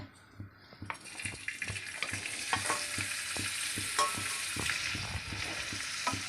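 Aloe vera frying in hot mustard oil for pickle, with a steady sizzle and occasional clicks of stirring throughout.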